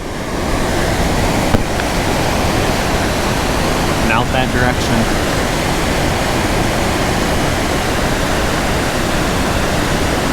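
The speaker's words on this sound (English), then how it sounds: "you can see the water flowing up there through the emergency spillway" Water rushing down the emergency spillway of Secord Dam makes a steady, loud, broadband roar throughout, with someone speaking briefly over it.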